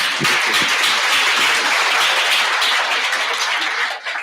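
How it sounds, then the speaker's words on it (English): An audience gives Lazarus Jacobs a round of applause after his inspirational talk, a thick, steady wash of clapping from many hands that holds at a constant level and thins slightly at the very end. "Please, a round of applause for Mr. Jacobs once more."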